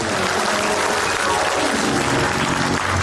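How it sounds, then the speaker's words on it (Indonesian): A studio audience at an Indonesian comedy talk show bursts into dense, loud applause that fills the whole short stretch without pause. "Tepuk tangan untuk Komeng"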